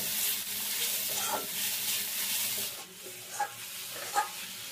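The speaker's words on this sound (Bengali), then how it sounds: "এলাচ আর গুড়টা নারকেলের সাথে ভালো করে মিশিয়ে নেব।" Grated coconut mixed with jaggery and cardamom in a pan for kadampuli pitha filling, giving a continuous soft sizzling hiss with occasional light scraping clicks of the spatula, heard alone.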